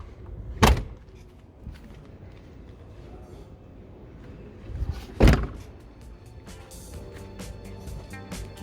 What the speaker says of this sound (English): I want to close the door for the final shot of this vehicle.